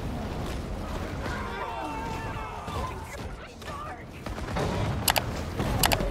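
Machine gun fire in the Maneater shark game crackles in rapid bursts amid watery game action and rumbling, with a couple of sharp metallic shots near the end.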